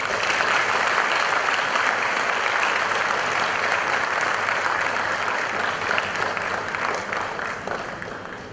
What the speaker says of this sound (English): So may we have a huge round of applause for Shyam.